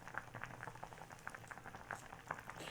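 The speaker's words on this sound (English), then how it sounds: "And now we're boiling away" Noodle broth for shabu bubbling in a pot, a soft steady simmer of small pops and patter with no talk over it.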